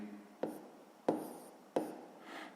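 Pen writing numbers on paper while solving a sixth-grade math exercise: three distinct taps or strokes spaced under a second apart, with faint scratching between them, quiet and close, no speech.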